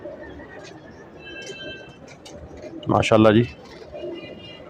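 Pigeons of various breeds coo softly nearby, with one bird giving a louder, throaty burst of cooing midway, amid faint chirps and occasional talk.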